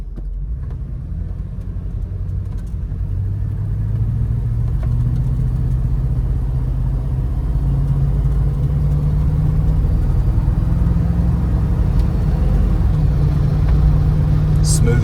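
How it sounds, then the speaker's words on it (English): A lifted 1985 Chevrolet K20 square body Suburban rumbles steadily while driving, its low, even engine drone continuous and fairly loud throughout with no other sounds standing out. "I can drive a K20 square body Suburban with a lift with one finger"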